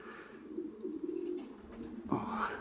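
Low, soft cooing of racing pigeons at a loft during a race arrival, a few rolling coos close by, with faint background noise and a voice briefly audible.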